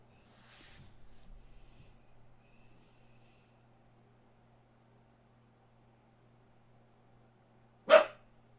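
A single sharp dog bark near the end of an otherwise quiet stretch with low hum and faint rustling.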